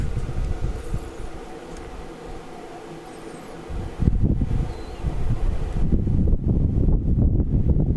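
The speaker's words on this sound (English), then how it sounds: "A very windy day as well." Gusts of wind buffet the microphone at an outdoor football match, rumbling low and loud, easing briefly before strong bursts return.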